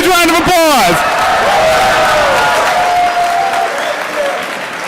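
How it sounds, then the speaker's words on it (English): An audience at a hackathon opening ceremony breaks into loud applause and cheering. A voice is heard briefly at the start, then the clapping fills the room as a dense, sustained roar. "Give him a huge round of applause."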